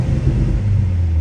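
A 2025 Mercedes C43 AMG in Sport Plus mode with the performance exhaust, its engine rumbling and revving heavily, a dense low growl heard close up that sustains without a break.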